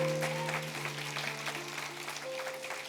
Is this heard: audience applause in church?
yes